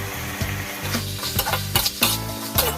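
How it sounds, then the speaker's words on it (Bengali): Chopped tomato drops into spices frying in a pan, bursting into a loud, steady sizzle with repeated stirring scrapes and a few sharp clinks, close up with no talking. "আর দিয়ে দেবো টমেটো কুচি।"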